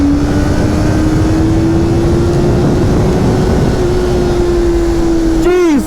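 A 2023 Honda CBR650R sport motorcycle's inline-four engine drones steadily under throttle with heavy wind rush, loud and sustained, rising sharply in pitch as it revs hard at the end.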